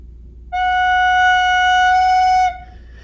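A single sustained recorder note, an out-of-tune F, pure and slightly sour, holds steady for about two seconds against quiet background, then stops.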